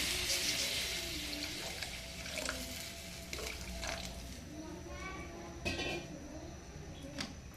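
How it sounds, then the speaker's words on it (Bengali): Water poured into a cooking pot for a fish curry with gati kochu taro, a soft trickling and splashing under a voice and background chatter, fairly faint and close. "যেহেতু মাছ দেবো আর গাটি কচুটা সিদ্ধ হবে, তাই আমি আরও একটু জল দিয়ে নিচ্ছি।"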